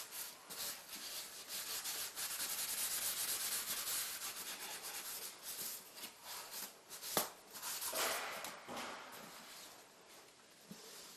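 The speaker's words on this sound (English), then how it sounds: "Take your sponge and scrub it off." A sponge scrubbing a surface during cleaning, heard as quiet, close, rhythmic rubbing strokes that swell and fade over about eleven seconds, with a few soft knocks.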